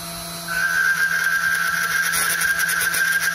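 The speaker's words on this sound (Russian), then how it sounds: "Повизгивает, но ничего не сделаешь. Фреза тонкая и длинная." A thin, long 4 mm milling cutter spins at 12,000 rpm, cutting a scooter body part. After about half a second, a steady high squeal rises over the constant whine of the spindle and holds for several seconds. It is close and loud, and no one speaks.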